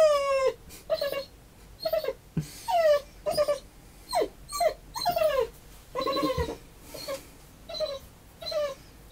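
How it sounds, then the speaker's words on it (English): A small dog squeaks and whimpers in a rapid series of high, nasal whines and yelps, close and fairly loud, with short gaps between cries. "he's a squeaker. He occasionally does bark."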